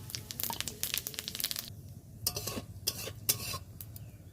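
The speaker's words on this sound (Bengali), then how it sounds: "শুকনো লঙ্কা আর পাঁচ ফোড়ন ভাজা হয়ে গেছে" Dried red chillies and panch phoron spices fry in hot mustard oil in a wok, giving bursts of crackling and rustling with intermittent stirring scrapes, close and moderately loud with no talking.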